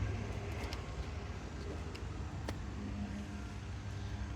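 A 1957 Ford Thunderbird hardtop with a 312 V8 and automatic transmission running, giving a steady, fairly quiet low rumble that holds even throughout with no revving.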